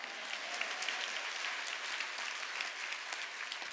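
A church congregation applauds at a Korean Sunday worship service, a dense, steady wash of many hands clapping that holds evenly throughout without a break.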